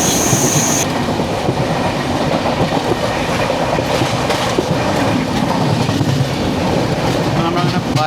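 The 12258 Garib Rath Express running on rails from Kochuveli toward Thrissur as it nears Paravur station, a steady loud rumble with clickety-clack wheel beats heard from inside the coach.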